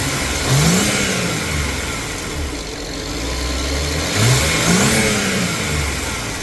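A BMW car engine revving during vacuum hose repairs, two rising revs a few seconds apart over a steady idle, close and fairly loud.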